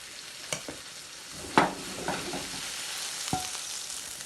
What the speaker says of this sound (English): fry a quarter teaspoons of cumin seeds with some spring onion